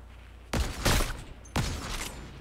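Three sharp, loud gunshots ring out in Fortnite, one after another with short gaps, each ending in a brief decaying tail.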